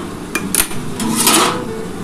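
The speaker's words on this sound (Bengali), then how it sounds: "দেখো আমি ঢাকাটা এবার খুলে দেখি কতটা হলো।" A lid is lifted off a cooking pot of simmering mustard and sesame paste curry for catla fish, with a few sharp metallic clinks and knocks, then quiet bubbling.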